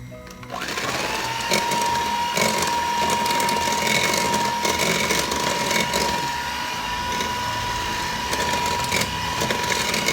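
An electric mixer beats egg yolks into kastengel dough, starting up with a short rising whine, then holding a steady, close mechanical whir with faint rattling for the rest of the stretch.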